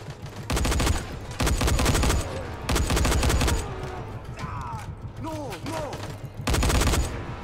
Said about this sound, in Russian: Чем-то стрельба здесь напоминает, кстати, Payday 2